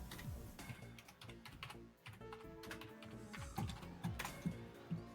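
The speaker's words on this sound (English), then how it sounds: "Mechanical click clacking keyboard." Rapid, steady typing on a new mechanical keyboard, with a dense run of sharp, clicky keystrokes close to the mic and no talking.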